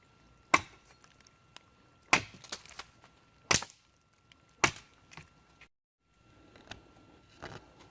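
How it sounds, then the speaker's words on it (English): A wooden pole is chopped at a trapping site, with about five sharp, loud, close blows at uneven intervals and quieter knocks and rustling between them, no talking. "Now at this point I've cut my pole"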